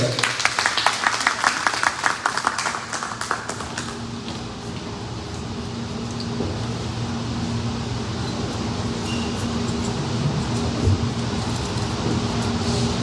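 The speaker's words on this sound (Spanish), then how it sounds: "Lo recibimos con un fuerte aplauso al ingeniero" Assembly at a municipal accountability meeting briefly applauding to welcome an engineer, a burst of clapping over the first few seconds that fades into a steady hum of fans or air conditioning.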